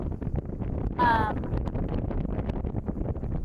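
Steady, loud wind buffeting the microphone outdoors at a golf course in Wellton, Arizona, as a storm rolls in, with a low roaring rumble throughout and a brief whine partway through.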